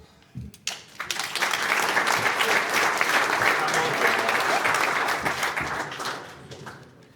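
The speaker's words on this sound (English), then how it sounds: "The applause is always so muted for the door prize." At a mining networking mixer, an audience claps for a door prize winner. A few scattered claps swell into a steady round, hold for several seconds, then thin out and fade, with a voice briefly audible at the start.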